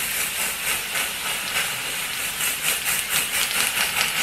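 A steady, close hiss of a spray bottle applying dye to dreadlocks runs continuously with slight pulsing, loud and unbroken, no voices.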